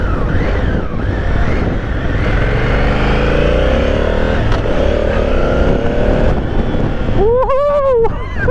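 A 2018 Honda Africa Twin motorcycle accelerates hard on a test ride. The engine revs rise and fall under heavy wind noise, and a voice whoops briefly near the end.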